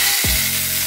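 Fish fries in a hot pan, scaly side down, with a loud, steady sizzle close up and a brief low thump as it is laid in.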